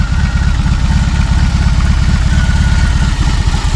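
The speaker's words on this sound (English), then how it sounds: "And now I can put the motorcycle in gear," A BMW R18 motorcycle engine idles loud and close in neutral, holding a steady low throbbing pulse with a faint mechanical clatter and no voices throughout.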